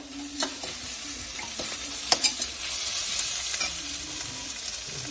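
Squid sautés in a pan with salt, making a steady close sizzle punctuated by intermittent clacks and scrapes of stirring.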